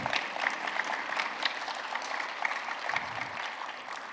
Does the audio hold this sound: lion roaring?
no